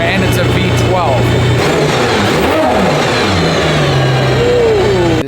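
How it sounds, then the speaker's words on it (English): Aston Martin Valkyrie Spider with its high-revving V12 engine, heard up close as a loud, steady mechanical roar that swells and shifts in pitch, with someone talking over it throughout. "I've never had a car that revs that high before, and it's a V12."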